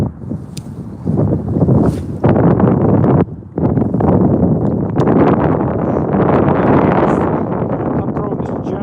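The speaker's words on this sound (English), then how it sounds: "Oh, there's that wind." Strong, brutal wind while fishing for striped bass outdoors, loud gusty buffeting of the microphone that rises abruptly, dips briefly, then roars on steadily.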